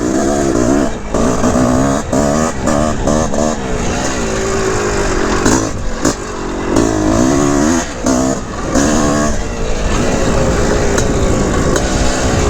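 A 1981 Honda CR450R Elsinore two-stroke dirt bike is ridden hard nearby, its loud engine revving and surging continuously with quick throttle blips and gear changes, with no talking.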